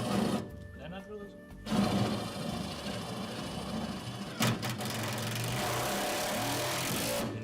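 A cordless drill whines and strains steadily against stiff prepreg composite layers during an electric car floor build, running continuously close up with a short pause early on.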